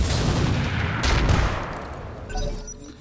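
Mech weapons fire in BattleTech, a loud barrage of overlapping shots and blasts with two sharp bursts midway, then fading into crackling impacts and a softer trailing thud.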